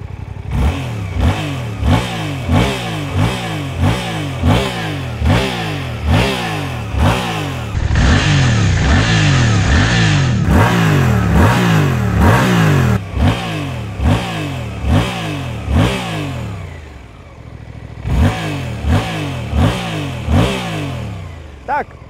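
Suzuki GSX-8S (2023) inline-twin motorcycle engine started and revved repeatedly, sharp rising-and-falling blips in a regular rhythm, with a sustained high rev in the middle, loud and close with no talk.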